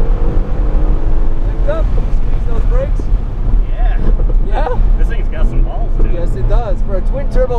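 Mercedes-AMG GT-R twin-turbo V8 droning steadily from inside the cabin on a race track, a constant close engine roar running under continuous talk.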